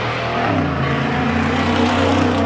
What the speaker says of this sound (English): and that's a loud motorcycle